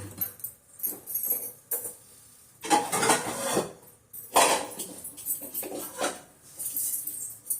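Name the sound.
kadai (wok) placed on the stove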